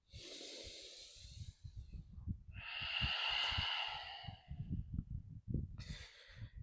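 Audible breathing during a morning yoga session, with a long hissing exhale through the nose or mouth in the middle, heard close and fairly quiet over soft footstep-like thumps from stepping in place.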